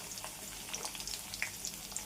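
Garlic, mustard seeds, fenugreek, cumin and dried chillies tempering in hot oil give a soft, steady sizzle with scattered small crackles and pops, close and fairly quiet, with no talking.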